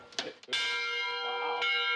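An old elementary-school bell rung at a history museum: a couple of light taps, then one loud sustained clang with a bright, ringing tone that hangs and slowly decays, struck again near the end.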